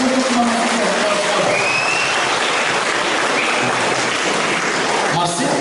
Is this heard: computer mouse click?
no